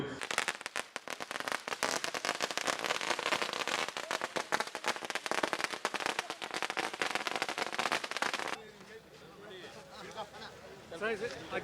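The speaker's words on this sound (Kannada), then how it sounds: "ದಾರಿಯುದ್ದಕ್ಕೂ ಪಟಾಕಿ ಸಿಡಿಸಿ ಸಿಹಿ ಹಂಚಿ ಸಂಭ್ರಮಿಸಲಾಯಿತು" Rapid, dense firecracker bursts crackle loudly for several seconds along a street procession welcoming a farmers' association president, then stop abruptly, leaving quieter crowd noise and voices.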